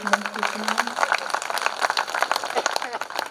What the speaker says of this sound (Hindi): एक बार माँ के सम्मान में जोरदार ताली बजाइए।